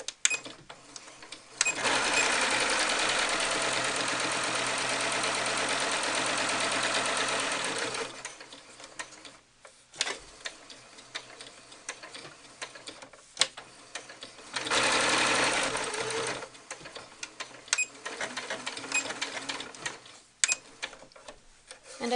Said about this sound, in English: I'm going to sew a swirl into them for detail in the top knot.